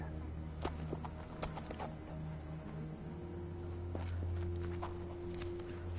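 Soft, irregular hoof clops of a horse walking in the video game Sherlock Holmes: The Awakened, faint and close, over a low steady hum.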